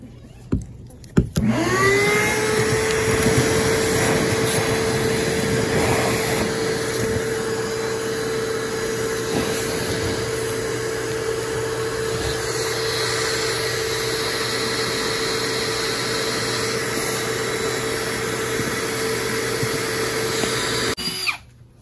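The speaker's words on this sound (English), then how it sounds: "Turn the vacuum back on again." A bee vacuum runs during a honey bee hive removal inside a house, starting abruptly with a loud, steady motor whine and airflow roar that holds evenly for about twenty seconds before cutting off.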